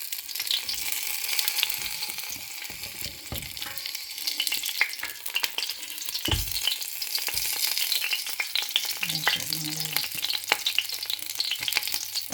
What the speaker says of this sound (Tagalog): Para maprito po natin yung maayos.